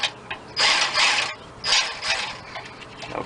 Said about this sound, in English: I'm gonna use my cordless impact